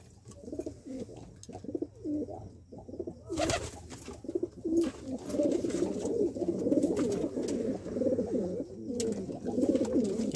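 Low, bubbling coos from a pigeon held at night come close and repeatedly, building into an almost continuous murmur.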